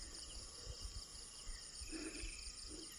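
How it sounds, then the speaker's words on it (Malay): Crickets chirp steadily at night on a very quiet, lonely road, a faint continuous high trill with a few soft distant calls and low rumbles beneath, no talking. "Boleh dengar tak ada apa pun kecuali cengkerik."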